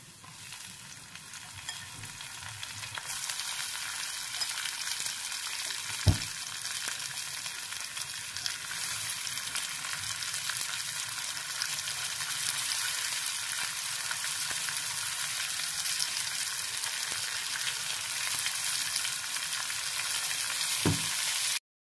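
Onion sautés in a pan over already fried ginger and garlic, giving a loud, continuous hiss of sizzling that holds steady throughout, with two brief knocks of a utensil and no voices.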